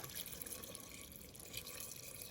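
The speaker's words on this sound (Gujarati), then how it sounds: "હવે નાખી દઈશું આપણે પાણી" Quiet, steady trickle of water running into a container, with faint dripping splashes and no talking.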